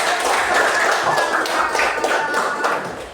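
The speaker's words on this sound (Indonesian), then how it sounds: "Oke, tepuk tangan." Schoolchildren in a classroom clap their hands together in a lively burst of dense, fairly close applause with slight rhythmic accents, lasting about three seconds before tapering off.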